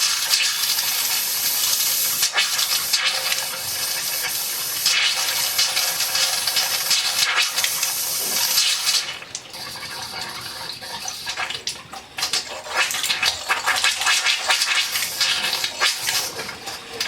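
Water gushing out of a hot water heater during a flush, a loud continuous splashing rush that surges and dips partway through, with no voices.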